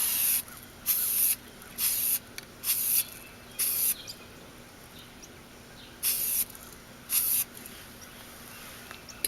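Spray can primer applied in light, overlapping coats to a car bumper, seven short hissing bursts of about half a second each, close and loud, separated by quiet gaps.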